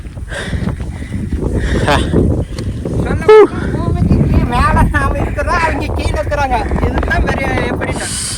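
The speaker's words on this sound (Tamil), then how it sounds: "காற்று வந்து விசு விசுன்னு" Strong wind rushes over the top of Kanjamalai hill, buffeting the microphone with a loud, constant roar. People talk throughout.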